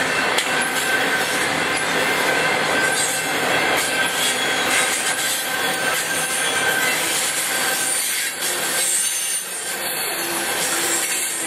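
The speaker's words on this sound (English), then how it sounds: "For a coal train." A Norfolk Southern coal train passes near Mableton, Georgia. Steel wheels grind, squeal and clatter in a dense, continuous roar that holds steady throughout with no talking.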